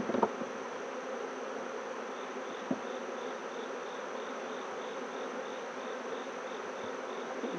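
Honeybees hum in a steady, dense buzz around an opened hive during an inspection, continuous and close, with a brief clack of equipment near the start.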